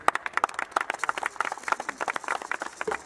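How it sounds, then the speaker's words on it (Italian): A crowd claps for Emilio at a music event, a dense patter of hand claps from several people, close and fairly loud, going on steadily without pause. "Un applauso"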